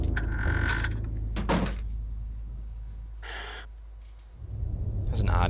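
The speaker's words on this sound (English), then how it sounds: "That's an odd sounding gasp." A strange, breathy gasp from the video game Eternal Darkness: Sanity's Requiem rises briefly over a steady low, droning ambience, with a few soft thumps and rustles around it.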